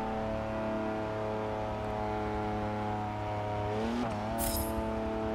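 A BMW N55-engined car in a racing video game holds a steady, droning engine note with layered harmonics, then a quick shift or rev dip near the end and a brief hiss.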